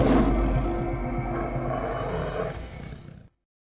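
Tigers in an animated Sundarbans mangrove forest let out a loud, sustained roar that rumbles for about three seconds and then cuts off abruptly.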